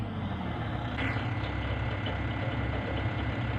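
A tractor engine idles steadily with a low, continuous rumble and faint knocking, close by and unbroken throughout.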